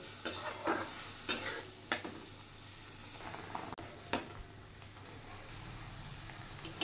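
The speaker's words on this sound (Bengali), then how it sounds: "এটা একটু পরে পরে নাড়তে হবে, যাতে নিচে কড়াইয়ে লেগে না ধরে" Grated bottle gourd cooking over low heat in a wok, a faint soft sizzle broken by several sharp scraping strokes and clinks as it is stirred.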